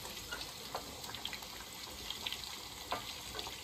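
Chopped garlic sizzles and crackles steadily in hot oil for a tempering, with scattered sharp pops over a continuous frying hiss. It is close and moderately loud in a village kitchen, with no talking.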